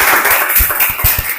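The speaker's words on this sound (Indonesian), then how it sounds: "Kita kasih tepuk tangan dulu buat kelompok 2." A classroom group claps for group 2, a short burst of close, brisk handclaps in a quick, fairly regular rhythm.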